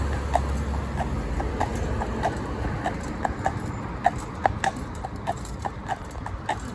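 Horse hooves clip-clop in a steady, even rhythm while a horse in harness and collar is driven, each step a sharp knock over a low, constant rumble in the background.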